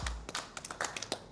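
A small group claps in a pavilion, with a quick, uneven run of sharp, close hand claps and no voices.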